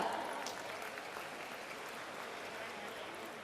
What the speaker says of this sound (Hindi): आइए एक बार स्वागत, अभिनंदन करें माननीय मुख्यमंत्री जी का जोरदार तालियों के द्वारा।